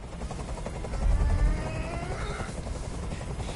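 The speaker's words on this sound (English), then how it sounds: "I can't stand that noise anymore. Tell that helicopter to get out of here." A helicopter's rotor chops in a rapid, steady thump in the video game Detroit: Become Human, fairly loud and continuous, with a brief deeper rumble partway through.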